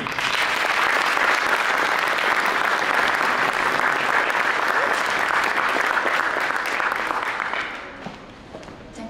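Warm, sustained audience applause for a painter at an interfaith art performance, thick and even for about eight seconds before fading out near the end.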